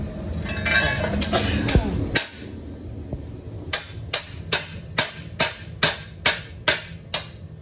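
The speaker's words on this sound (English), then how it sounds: "You could give me the hammer." Steady hammer blows, about a dozen evenly spaced sharp strikes, follow a stretch of clattering and shuffling noise; close and fairly loud, during a Dodge Ram frame repair.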